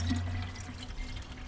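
A water and coolant mix pours into the expansion bottle of a BMW E46/E39 cooling system, a close, steady gurgling trickle and slosh of liquid with low rumbling underneath, no talking.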